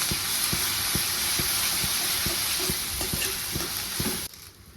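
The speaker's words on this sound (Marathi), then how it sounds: "हे अद्रक लसूण कोथिंबीर आणि थोडंसं खोबरं घेतलेलं आहे मी त्याची पेस्ट केलेली ही पण आपल्याला ह्याच्यात तळून घ्यायची आता" A paste of ginger, garlic, coriander and coconut fries with onion in hot oil in a pan, a loud steady sizzle and hiss cut by regular scraping stirs, then dropping off abruptly near the end.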